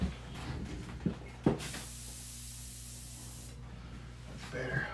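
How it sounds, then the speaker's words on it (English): Paint sprayer hissing a long steady burst of paint onto a sponge craw bait, preceded by a few short clicks and handling knocks, close and clear. "I'm just gonna spray across the back and stuff."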